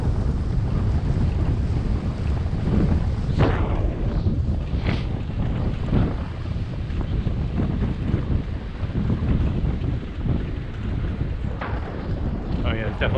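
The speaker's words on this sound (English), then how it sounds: "A little windy out here." Wind rumbles against a microphone while riding a bicycle through New York City, a loud, continuous low buffeting with occasional gusty bursts, and a voice is faintly heard in places.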